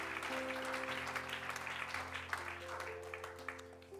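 A church congregation claps in appreciation for a guest preacher, a steady wash of applause from many hands that runs the whole time beneath sustained organ chords.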